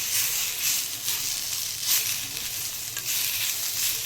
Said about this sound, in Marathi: आता याच्यामध्ये टॅमॅटो घालायचं आणि दोन मिनटं परतून घ्यायचं